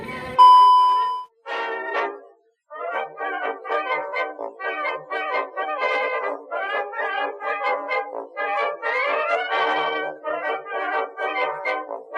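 A bell hanging from a dog's tail at the Lan Itsaraphap 109 grounds in Ang Thong rings with a clear ding, followed by a run of bright, repeated metallic chimes that carry on steadily and loud with no talking.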